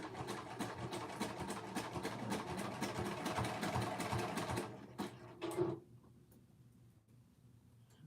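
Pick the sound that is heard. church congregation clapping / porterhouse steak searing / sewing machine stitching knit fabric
sewing machine stitching knit fabric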